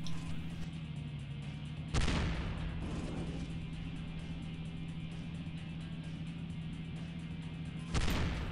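A tank's main cannon fires in the game Desert Thunder, two heavy booming blasts several seconds apart over a constant engine drone.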